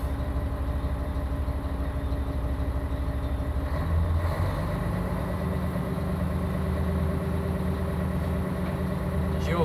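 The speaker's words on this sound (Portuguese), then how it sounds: "Tô aquecendo o motor aqui para puxar o caminhão para frente." A truck engine idles while warming up, a steady low rumble with a constant mid-range drone and a slight shift in tone partway through, running alone without talk.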